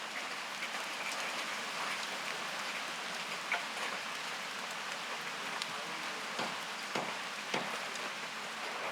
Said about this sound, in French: Là, ça, c'était à Singapour quand il y avait eu un orage.